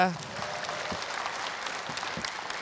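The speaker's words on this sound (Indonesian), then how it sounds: "Boleh tepuk tangan sekali lagi untuk Oki Rengga." An audience at a stand-up comedy competition breaks into applause for a comedian, a burst of clapping that starts strong and settles into steady, moderately distant applause.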